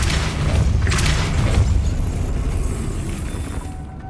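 A Depulso spell cast in the Hogwarts Legacy video game lands as a loud, heavy boom with a deep rumbling tail. Several bright bursts sit on top, one near the start and a stronger one around the middle, and no voices are heard.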